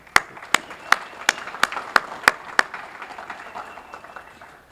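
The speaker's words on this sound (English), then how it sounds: "I think you all deserve a big round of applause" A handful of people clap at a Rotary Club scholarship presentation ceremony, eight or nine distinct sharp claps at an even rhythm that fade into a soft murmur of scattered applause.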